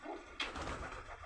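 A pigeon gives a single soft coo inside a home pigeon loft with small hanging nest pots, quiet and close, over a low background hum.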